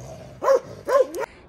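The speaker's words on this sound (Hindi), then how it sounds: "अगर ये कुत्ता गलती से छूट गया ना" Dog in a village, barking twice in sharp, fairly close barks with a brief yelp after, no talk.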